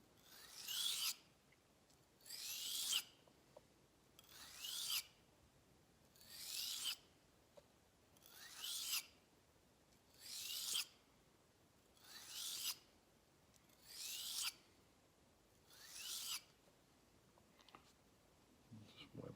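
A leather round knife blade being sharpened with about nine slow, even rasping strokes at a steady rhythm, close and fairly quiet, with a short pause between strokes.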